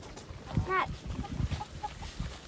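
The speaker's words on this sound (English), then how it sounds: "The rooster is Hey Hey" Backyard chickens and a rooster cluck in short, scattered bursts at close to moderate distance, one brief rising squawk standing out amid soft background murmur.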